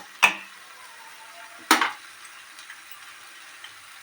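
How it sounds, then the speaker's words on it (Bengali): Fried potato pieces dropped into a pan of sizzling paste, giving two sharp clattering hits with crackling hiss, then a few faint ticks against a quiet background. "এবার আমি এর মধ্যে আলুর টুকরোগুলোকে দিয়ে দেব"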